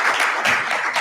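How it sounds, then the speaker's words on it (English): An audience at a candidates' forum for a November election gives a brief, steady burst of applause, close and fairly loud with no talk over it. "Can we give an applause for this?"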